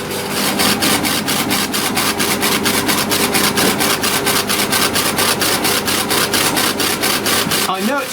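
Modified K40 laser engraver running at 1,000 mm per second, a steady rapid rasping pulse of the head sweeping back and forth in a fast even rhythm, loud and close throughout.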